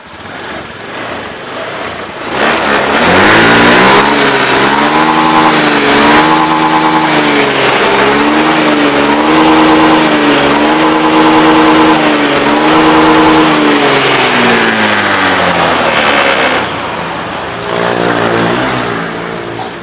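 A car engine with a throttle body and TPS fault starts up and runs with a loud, steady buzz near by, then revs up and down in several rising and falling surges before settling.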